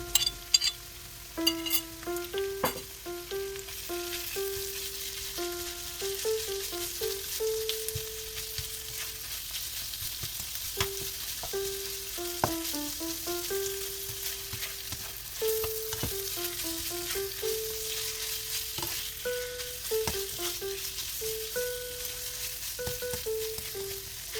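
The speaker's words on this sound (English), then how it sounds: "I'm ready to fry the marinated beef." Marinated beef fries in a pan, giving a constant soft sizzle broken by repeated scraping clatters of a utensil stirring the meat. No one speaks, and a tonal melody runs underneath.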